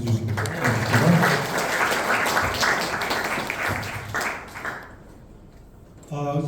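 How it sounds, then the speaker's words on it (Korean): Audience applause fills a conference hall at an industry–research collaboration project results-sharing event, a dense wash of clapping lasting several seconds before fading out, then a voice begins speaking. "박수 한번 맞이 해주시고."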